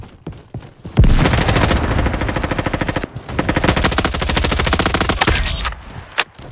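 Rapid automatic MP5 gunfire in the Roblox shooter Frontlines, two long sustained bursts of close, loud, evenly spaced shots, broken by a brief gap, then tapering off into a few scattered single shots.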